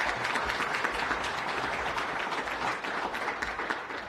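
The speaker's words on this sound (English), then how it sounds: "Please give them all a round of applause." Applause at an outdoor war memorial commemoration ceremony for a high school brass quintet, steady dense clapping from a crowd that holds at an even level throughout the short stretch.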